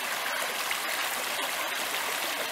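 A woodland river flows steadily over pebbles, giving an even, continuous rush and trickle of water at moderate distance with no voices.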